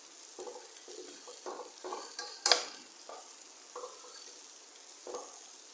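Sprouted moth beans roasting in a pan, quiet hissing sizzle with soft scraping stirs at regular intervals and one sharp crackle midway, close but faint, no voices.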